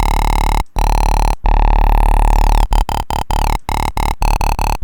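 Crushy, heavily distorted synth bass patched in Serum inside FL Studio for grotty jump up, playing loud sustained buzzing notes chopped by short gaps into a stuttering rhythm, with no voice over it.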